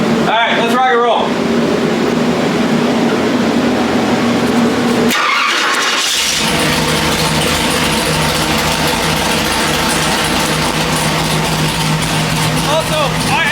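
A 427 small block Chevy V8 runs loud on a dyno, its steady roar broken by a sudden cut near the middle before the engine surges back to full, continuous power.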